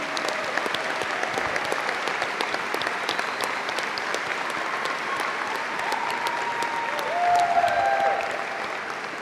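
Commencement audience applauding graduating students at a journalism college ceremony, a dense, steady wash of clapping lasting the whole stretch, swelling slightly near the end, with faint voices underneath.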